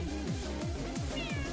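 A cartoonish cat in the video game Techno Kitten Adventure meows four times in a quick, even rhythm over a steady electronic game backdrop.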